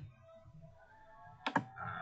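A computer keyboard in quiet use for scratching in Virtual DJ software: two or three sharp key clicks come in quick succession midway, over a low steady background hum.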